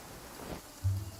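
Rain patters in Genshin Impact, a soft continuous hiss with a low rumble swelling near the end, faint and without talk.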